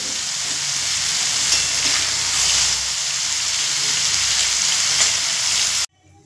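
Bottle gourd sizzles steadily in hot oil in a pan, a loud continuous frying hiss lasting about six seconds before cutting off abruptly into near silence.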